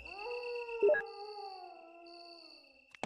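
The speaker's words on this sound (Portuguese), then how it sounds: "Olha o barulho do lobisomem do Chaves. Tem um cachorro aqui." A dog howls in the Resident Evil game with Chris in the garden: one long, wavering, mournful howl that rises, holds steady and slowly trails off, clear against an otherwise quiet background.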